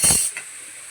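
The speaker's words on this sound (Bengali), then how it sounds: "এবার ঢাকা দিয়ে দিলাম" A lid is set onto a frying pan over a low gas flame: a brief soft clunk, then a steady faint hiss of steam and gentle sizzling from inside.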